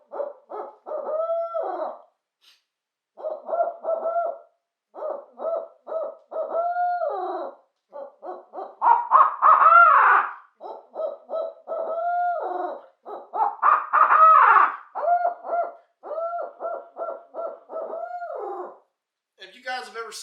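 A man imitates an owl with his own voice, giving repeated rhythmic hooting phrases with rising and falling pitch, loud and close, in bursts separated by short pauses.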